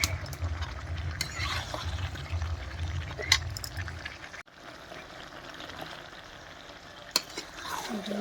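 Chicken and potatoes are stir-fried in a pan with close, continuous sizzling and scraping stir strokes that quieten partway through.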